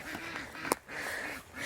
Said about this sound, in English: Oh, the ducks are going to follow me in here.